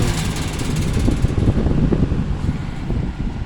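A vintage Dominion box fan, model 2066, runs on low speed with a steady, close whooshing hum of moving air, a constant broadband drone with faint mechanical rattle and no pauses.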